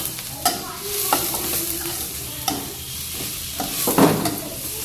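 Spring onion greens stir-fry in a hot pan for homemade Manchurian, a steady sizzle broken by sharp scraping and tossing strokes of a spatula, close and fairly loud with no talking.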